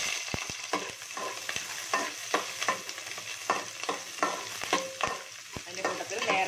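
Onions tossed into a frying pan sizzle steadily while a spoon stirs and scrapes in a quick repeated rhythm, close and clear with no talking.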